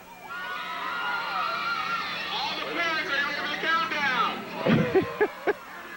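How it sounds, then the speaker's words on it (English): A big outdoor crowd waits for a countdown, a dense babble of many voices with whoops and shouts rising near the end, steady and fairly loud throughout. "There's a big crowd out here."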